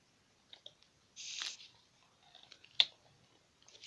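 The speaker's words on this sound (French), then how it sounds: "Je croque. Il y a des petites noisettes et du lait." Kinder milk chocolate with small hazelnuts is bitten and chewed close to the microphone, giving a few soft, sparse crunches and clicks in an otherwise quiet space.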